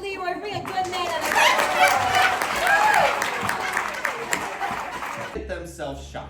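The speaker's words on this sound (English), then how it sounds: "Let's give a round of applause to Leroy for being a good man" An outdoor audience in a Wild West tourist town breaks into applause mixed with chatter and a little laughter, rising and then tapering off as voices carry on.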